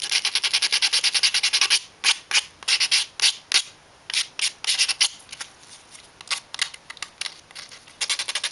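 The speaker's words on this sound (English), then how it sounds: "Sand off any tabs." Sanding the tabs off a small wooden model-kit piece by hand, a quick series of short, scratchy rasping strokes, close and fairly loud, in an irregular rhythm with brief pauses.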